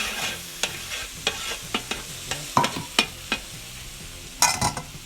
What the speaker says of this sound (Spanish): Agregamos nuestros calamares.